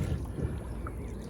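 Watery splashing and low rumbling strokes of a boat being rowed on Shannon Lake, close up, with wind over the microphone.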